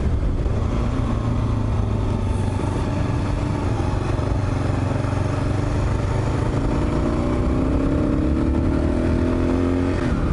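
An adventure motorcycle rolls at low speed over gravel, its engine droning steadily at close range with faint clatter from the loose surface, the pitch rising gently toward the end.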